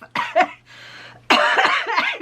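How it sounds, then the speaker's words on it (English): Several harsh coughs from a nearby person, a couple of short ones, a pause, then a longer rough coughing fit. "You must excuse me, I still have a bit of a cough"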